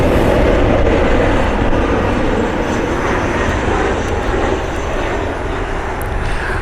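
United Express passenger plane inbound from Newark arriving at Cleveland Hopkins International Airport, a loud, steady jet engine roar close by that eases slightly as it passes.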